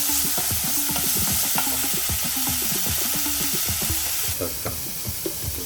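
Onions frying with garlic, ginger and green chili paste for a chicken coconut curry, stirred in the pan: a loud sizzle under repeated scraping and clattering spoon strokes, easing to a softer hiss with scattered knocks near the end.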